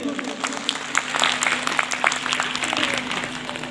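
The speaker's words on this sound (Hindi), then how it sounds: "इसलिए सब एक बार जोर से तालियां बजा दीजिए" Audience applause at a community gathering in Ranchi, a steady wash of clapping from a seated crowd that runs continuously at moderate loudness, with a low hum underneath.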